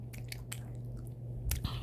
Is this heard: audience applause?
no